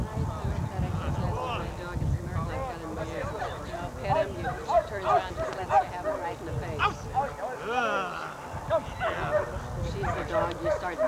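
An 11-month-old dog barks in short repeated yips and woofs outdoors, mixed in among people talking and some wind noise on the microphone.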